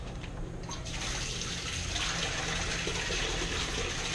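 Water poured and running continuously at close range, a steady hissing splash that fills the whole stretch without pause.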